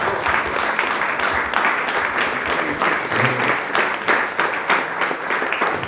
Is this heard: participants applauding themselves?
yes